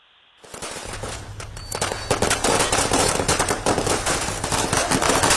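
Firecrackers are set off by party supporters celebrating a court ruling in Tamil Nadu: after a brief quiet moment, a dense, loud string of rapid cracking bangs erupts and rattles on continuously, with no speech.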